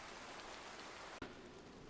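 Steady rain falls in the video game DayZ, a dense continuous hiss with a brief dip and crack near the middle, heard alone without talk.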